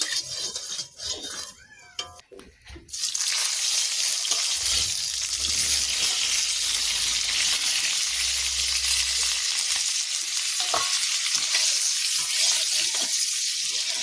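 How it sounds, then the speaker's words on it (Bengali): Eggs fry in hot oil with a loud, steady, close sizzle that starts abruptly after a few seconds of quieter kitchen sound and then runs on evenly to the end. "ডিমটা ভাজা হয়ে গেছে, এবার তুলে নেবো একটা একটা করে"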